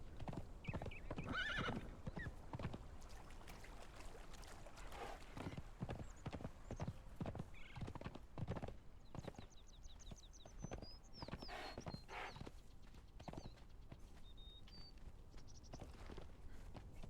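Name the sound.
horse galloping and neighing, from Conan Exiles video game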